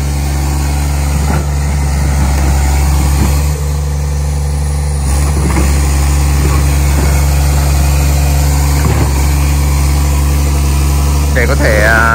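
An excavator engine idles steadily after an oil change, with its low, constant drone running the whole time beneath voices talking nearby.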